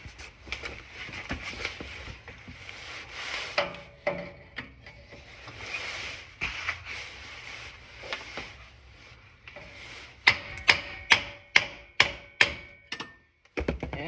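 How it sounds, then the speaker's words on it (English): A run of sharp metallic hammer blows striking the end of an axle on a 1997-2001 Honda CR-V, ringing out in quick, regular succession near the end, after a stretch of low mechanical rattling and handling noise. "you put it against the end of the axle and you hit it with the hammer"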